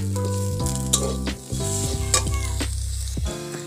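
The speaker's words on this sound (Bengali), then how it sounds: "দেখুন আমার চিকেনগুলো একদম ভাজা হয়ে গেছে।" Chicken with ginger garlic paste fries in a pan with a loud, continuous sizzle and crackle, broken by a few spatula scrapes and stirring strokes.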